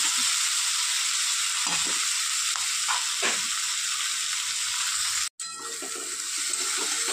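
Onion fries in oil with salt, giving a steady, loud sizzle throughout, with a few faint clinks and a brief dropout near the end.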